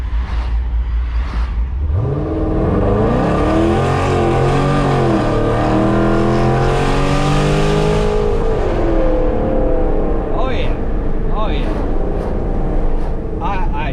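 A car with a newly installed differential brace pulls hard under acceleration: a loud, steady engine roar climbs through rising harmonic sweeps as it revs up, then settles into sustained drive noise with brief voices near the end.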